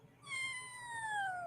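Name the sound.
cat meowing in a played video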